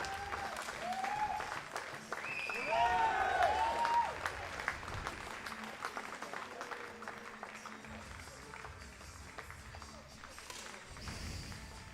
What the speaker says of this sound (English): They start clapping right now with 4 athletes still running for the medals.